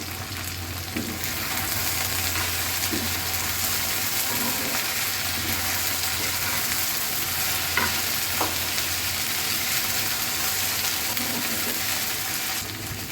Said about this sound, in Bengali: এখানে এখন পেঁয়াজ কুচিগুলো দিয়ে দিব